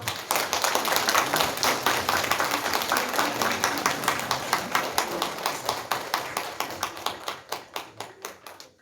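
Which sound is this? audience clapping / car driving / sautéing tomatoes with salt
audience clapping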